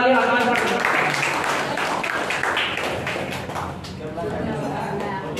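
Hall audience claps for a prize winner at a school's fifth annual award ceremony in 2022, dense clapping that is loudest at the start and thins toward the end, with a voice speaking over it.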